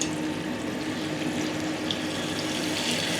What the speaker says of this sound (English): And just top that up with some water.